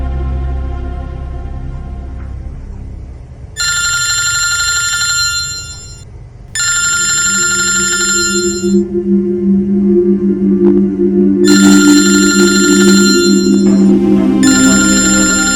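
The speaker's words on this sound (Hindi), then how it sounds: "जतिन को फोन लगाता हूं।" A phone ringback tone repeats in spaced electronic bursts over a steady low hum, loud and close.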